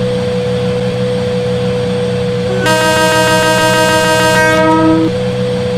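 Simulated WAP4 electric locomotive in Indian Train Simulator: a steady rail rumble runs throughout, and a loud, sustained train horn sounds near for about two and a half seconds midway through.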